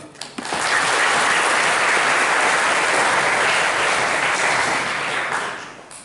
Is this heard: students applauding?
yes